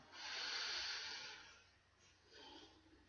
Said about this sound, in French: Prenez une profonde respiration et répétez après moi.